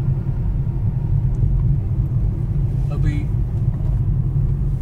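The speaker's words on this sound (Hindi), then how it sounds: "ये हम चला रहे हैं ग्रैंड आइटन का मैग्ना वेरिएंट।" Cabin of a Hyundai Grand i10 Nios Magna driving on a highway in third gear, filled with a steady low road and engine rumble, while someone talks briefly over it.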